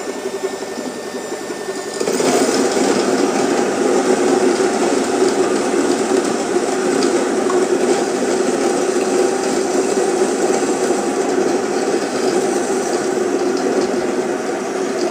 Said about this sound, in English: Quite a noisy grinder, so forgive.